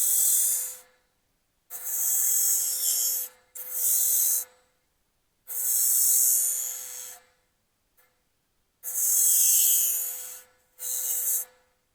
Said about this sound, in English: I'm going to use my skew and just put very tiny V grooves in that transition